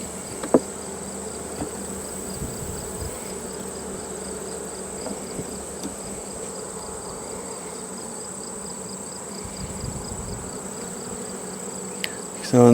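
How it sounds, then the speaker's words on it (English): Bees from a storm-damaged beehive hum in a steady, faint, continuous drone, with a few soft knocks and handling sounds and no speech. "Not a lot of bees in this colony."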